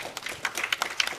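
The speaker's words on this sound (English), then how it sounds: "Ladies and gentlemen, another hand of applause" Brief audience applause at a data conference in Tanzania, a short patter of scattered claps from a modest crowd lasting about a second.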